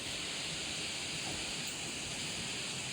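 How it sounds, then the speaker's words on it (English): Strong wind blowing steadily at sea off Ocean Cay, Bahamas, heard from a cruise ship balcony as a constant broadband rush with no talking. "it's so windy"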